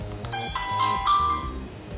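An iBall Aasaan senior mobile phone plays its start-up tone, a short bright melodic chime of a few rising notes over a soft low hum, moderately loud with no speech.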